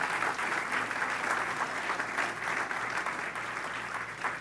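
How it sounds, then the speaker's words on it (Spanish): A church congregation applauds during an evangelical service, a dense, continuous wash of many hands clapping at steady loudness throughout, with no voices standing out above it. "Denle un aplauso al Señor."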